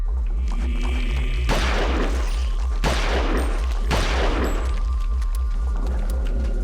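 Gunfire in the video game Eternal Darkness: Sanity's Requiem: three loud, sharp gunshots about a second apart, each with a short echoing tail, over a steady low hum, with no talking.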